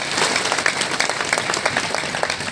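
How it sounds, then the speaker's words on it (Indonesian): A crowd at a Quran-study gathering marking a regency's anniversary applauds the acting regent, with dense sustained clapping that fills the whole stretch at steady loudness. "Sekali lagi tepuk tangan dong untuk PJ Bupati kita."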